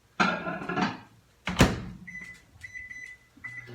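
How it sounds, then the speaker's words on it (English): A microwave door thuds shut, followed by a series of short electronic beeps from the keypad as the oven is set. "we're just going to throw this in the microwave for 4 minutes, uncovered"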